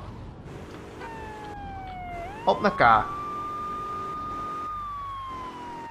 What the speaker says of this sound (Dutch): Ja, ik heb een politieauto.